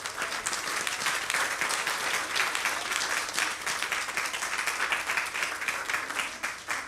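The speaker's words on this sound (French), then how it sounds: "on nous applaudit le Seigneur pour les gens qui sont dans le département de Timon." Sustained applause from a church congregation during a Psalm 100 service, steady dense clapping that fills the space without pause, with no speech over it.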